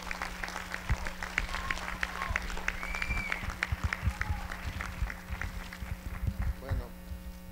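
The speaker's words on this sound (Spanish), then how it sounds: "Otro fuerte aplauso." Applause from an audience at a 2016 rally for sovereignty in Mexico, quick scattered claps over a persistent low hum, fairly faint and distant, building and fading in uneven bursts.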